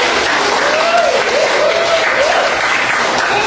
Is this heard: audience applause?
yes